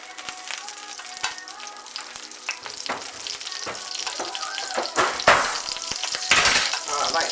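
Margarine or butter frying in hot oil for crumbed pork chops makes a continuous close sizzle with crackling bursts that grow louder and busier toward the end, with no talking.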